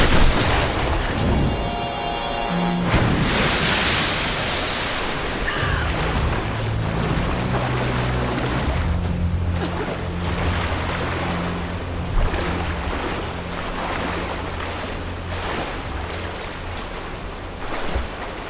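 Water rushes and surges in Tomb Raider 2013, with a loud roaring wash of waves and churning current that swells early and keeps rumbling steadily for a long stretch.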